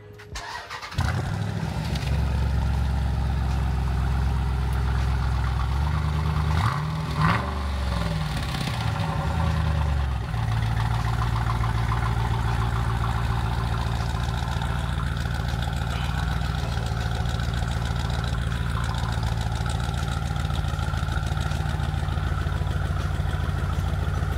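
A Jeep Grand Cherokee with the 6.4L engine starts up and settles into a steady idle through a muffled exhaust, a deep continuous rumble with a brief rev swell early on, heard close and alone.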